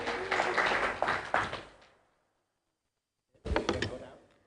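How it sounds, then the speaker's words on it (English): At an international public administration conference, the audience claps for the speakers in a couple of loud bursts that fade into silence, then a fresh round of clapping picks up briefly near the end. "Once more, please give a round of applause to all the speakers."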